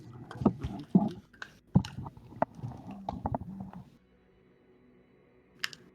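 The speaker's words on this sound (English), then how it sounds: "You can hear me chewing my bottle." Someone chewing and biting on a plastic bottle cap close to the microphone, a run of irregular crunchy bites and clicks for about four seconds, then near quiet.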